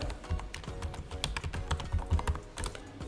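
Someone types a password on a computer keyboard while setting up a Palo Alto firewall, producing close, crisp key clicks in quick irregular bursts with no talking.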